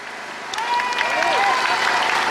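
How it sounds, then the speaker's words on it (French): A protest crowd at a stopRockwool demonstration in Soissons applauding outdoors, clapping swelling from a lighter patter into a dense, loud wash, with voices and a whistle-like tone mixed in. "Que nous les applaudissions parce qu'ils vont nous soutenir dans notre combat"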